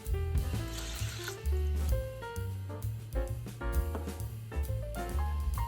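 Water pours into a rice cooker pot holding washed rice, a soft splashing trickle under lively background music that carries throughout.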